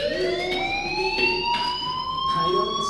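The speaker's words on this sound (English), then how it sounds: "Hey, do you hear that fire alarm?" A fire alarm rings steadily in the Life Is Strange video game, a continuous electronic tone with several sustained pitches that hold without a break for about three seconds, loud and alone with no talking.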